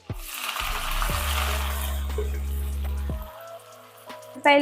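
Dried red chillies and onions dropped into hot oil in a pan for a Telugu ponnaganti greens dal, giving a loud, close crackling sizzle that runs steadily with a few sharp pops, ending in a brief clatter.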